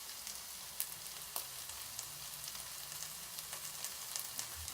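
Diced potatoes with pepper sizzle steadily in a hot pan for a vegetarian breakfast burrito, a close continuous crackle with small pops and a few faint stirring clicks, no talking.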